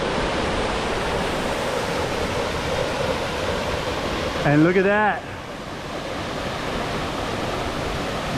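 Steady, broad roar of Sulphur Creek Falls, a waterfall seen from a cliff band some distance away, rushing continuously throughout while a voice briefly exclaims over it partway through.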